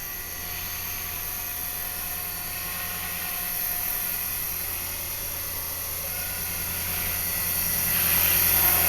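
An HK 450 RC helicopter flies nearby with a steady, high-pitched rotor and motor whine that holds constant throughout and swells slightly louder toward the end.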